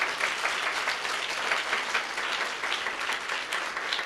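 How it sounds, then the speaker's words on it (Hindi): A church audience claps loudly and continuously in thanks, a dense, steady wash of applause from many hands that fills the room with no break. "जोर से ताली बजा के प्रभु को धन्यवाद।"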